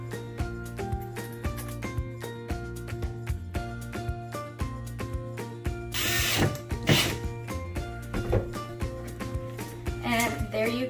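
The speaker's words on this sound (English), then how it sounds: "now you can go ahead and place your screws right there" Screws driven into the back of an assembled floater picture frame with a power drill, heard as bursts of whirring and ratcheting amid background music.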